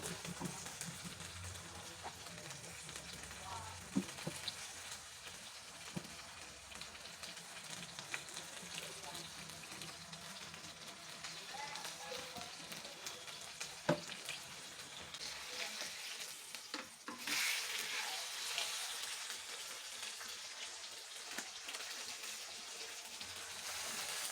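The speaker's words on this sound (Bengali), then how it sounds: "এইভাবে আমি সবগুলি চিকেন চাপ ভেজে তুললাম।" Chicken chap frying in a pan over a lowered flame, giving a steady soft sizzle that runs throughout at low level, with faint clinks and a brief louder hiss near the end.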